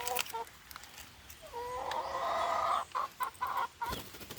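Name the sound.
chickens clucking in a small poultry farm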